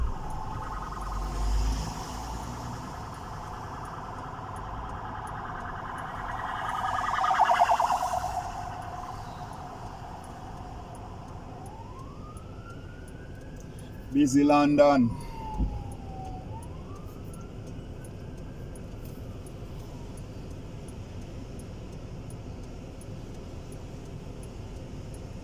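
Police car siren in busy London traffic, a rising and falling wail that sweeps past mid-distance for several seconds, with a short loud burst of nearby noise and steady road rumble underneath.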